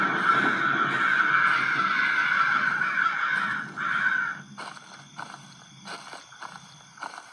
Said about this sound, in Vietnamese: Những bầy quạ đây kia.